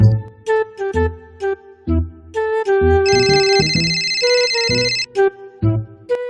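A melodic phone ringtone plays on an outgoing call, a repeating pattern of bright synth notes with short gaps, clear and alone.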